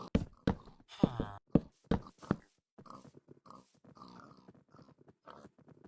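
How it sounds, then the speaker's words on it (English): Pigs in a cave-only video game world grunt and oink in a quick series of close, loud snorts, then quieter shuffling grunts and footstep-like sounds continue. "Oh, you greedy little piggies."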